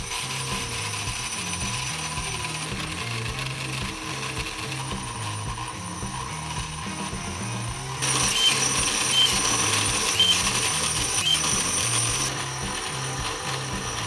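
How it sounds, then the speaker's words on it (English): A Merlin2 angle grinder fitted with a green carving disc cuts grooves into a wooden hollow form, a steady whirring grind with a rhythmic ratcheting pulse that grows louder and brighter partway through, then eases back. "I use the green disc to cut grooves in the piece that I'm going to hollow."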